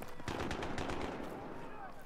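Shotgun fire in Battlefield 3 comes as a rapid cluster of loud, close blasts in the first second, then a dense rumbling tail of battle noise.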